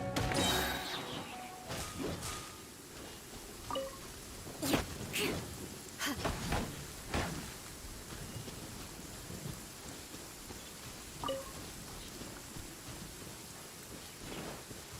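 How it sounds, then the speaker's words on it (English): Rain falls steadily in the video game Genshin Impact while several sharp thunder cracks break through, quiet and somewhat distant. "looks like the rain is stopping"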